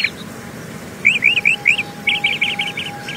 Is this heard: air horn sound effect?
no